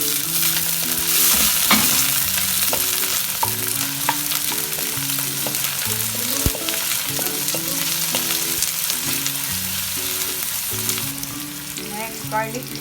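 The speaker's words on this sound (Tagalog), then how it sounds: "lagyan na natin ng oil ang ating pan. Lagyan natin ang sibuyas." Chopped onion sizzles steadily in hot oil in a pan, with a continuous close crackle and intermittent scraping and stirring clatter throughout.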